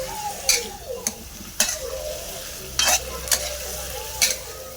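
Food being stirred in a frying pan on the stove during a home cooking lesson, a soft sizzle broken by a handful of scraping strokes of the spatula against the pan, close up and without talk.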